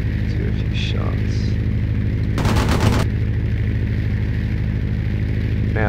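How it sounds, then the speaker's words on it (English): One short, rapid burst of aircraft gunfire during target practice in the Aces High II flight game, a fast stuttering rattle lasting about half a second over a steady droning engine hum. "I guess I could do a few shots."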